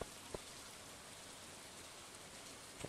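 Steady rain from the video game Stardew Valley hisses softly and evenly throughout, with a couple of faint taps near the start and end.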